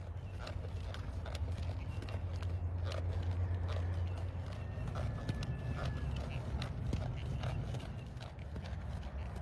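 A horse's hooves clip-clop at a relaxed walking pace on a loose rein, a steady rhythmic plodding over a low rumbling background, with no one speaking.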